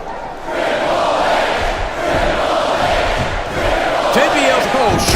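Arena crowd in WWE SmackDown vs Raw 2007 on Xbox 360 roars and cheers steadily throughout a wrestling match, a dense wash of fan noise with a few sharper hits near the end.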